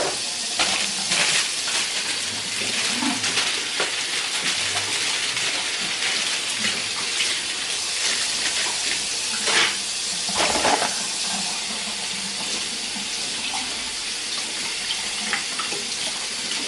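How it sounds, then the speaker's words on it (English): Vegetables are rinsed under a running kitchen tap, making a steady hissing stream of water with splashy surges and small clatters as the produce is moved under the flow, fairly close, with no talking. "So I'm gonna just give it a good rinse."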